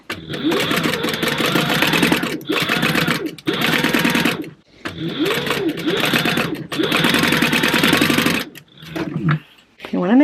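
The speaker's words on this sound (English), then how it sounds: "So let me sew this side." An electric sewing machine stitching the side of a fabric bag runs loud and close in several sustained buzzing bursts separated by short pauses, ending with quieter handling sounds.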